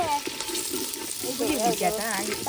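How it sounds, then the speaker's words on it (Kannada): Onion, tomato and curry leaves sizzle as they fry in coconut oil for a tempering, during village-style Mangalorean chicken cooking; a steady crackling hiss runs throughout while a voice talks over the latter half. "ಒಗ್ಗರಣೆ ಹಾಕ್ತಾ ಇದ್ದಾರೆ."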